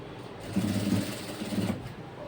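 A sewing machine runs in two short, steady bursts, stitching a concealed side zip into a blouse. It whirs close and clear with a brief pause between runs, and no one talks over it.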